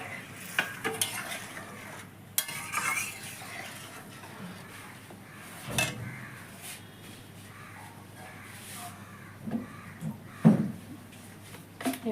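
Fish heads tipped into a pot of moong dal and stirred, with scattered clinks and scrapes of a utensil against the pot and a soft background sizzle, near and moderately loud, no talking.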